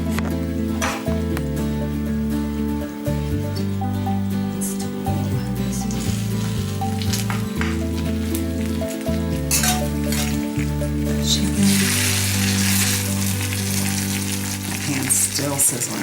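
A chicken basil pesto bake sizzles loudly and steadily in its hot dish, the crackling and frying noise continuous throughout, with occasional clinks of utensils and a low hum underneath.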